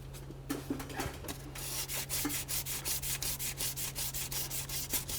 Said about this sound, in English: I'm going to continue on with a nice sanding block and make sure that I sand everything nice and smooth